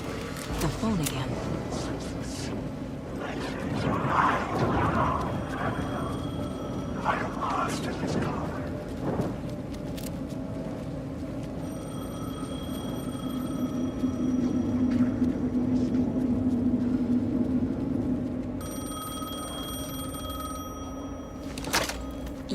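A telephone rings repeatedly in the horror game Alan Wake 2, its bell tones recurring under a voice and dark ambient sound.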